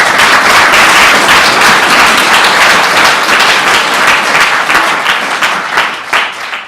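Audience applause, a loud, thick roar of many hands clapping at once, sustained at full strength and only easing slightly toward the end.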